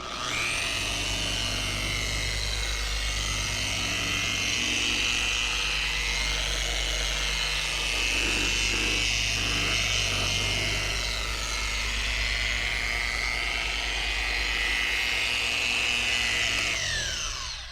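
A DIY Detail DA Correction Pro 25mm dual-action polisher runs steadily at speed 2, a loud, continuous high-pitched machine whine with a low motor hum that holds throughout without stalling.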